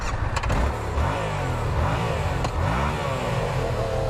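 A 2017 Yamaha MT-07 motorcycle engine runs with steady, loud revving close by, forming a continuous rough drone that rises and falls, with no talking.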